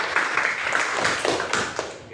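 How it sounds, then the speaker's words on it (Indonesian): A class of fifth-grade students claps together in a classroom, a loud steady burst of many hands with rhythmic patting accents, close and full, lasting about two seconds. "Tepuk tangan untuk kita semua."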